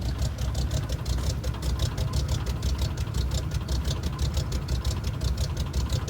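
A 1986 GMC Caballero truck engine idles rough, a loud close steady rumble with an uneven, rhythmic knocking pulse running throughout and no talking.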